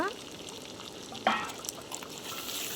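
Sliced onions, potatoes and tomatoes sizzling in a pan, a steady moderate frying hiss with a sharp clatter as the vegetables go in and faint spatula knocks.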